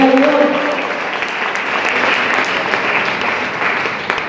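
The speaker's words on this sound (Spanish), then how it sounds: "Que me des un aplauso a este niño" Applause for a child during a church service, a dense steady clapping from a congregation lasting throughout, with a brief voice at the very start.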